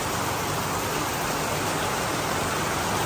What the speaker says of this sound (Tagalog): Ay umulan na